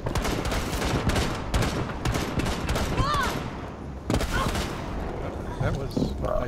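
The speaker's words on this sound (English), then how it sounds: "shoot out some of the wall." Rainbow Six Siege weapons fire in loud, rapid bursts to shoot out a section of wall, sharp automatic volleys repeating across the clip with short gaps between them.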